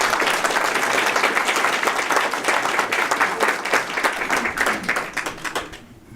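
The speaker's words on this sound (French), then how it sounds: "j'aimerais sincèrement qu'on l'applaudisse parce qu'elle a hébergé nos enfants" A ceremony audience applauds an investiture event in Montreal, dense steady clapping that carries on for several seconds before tapering off near the end.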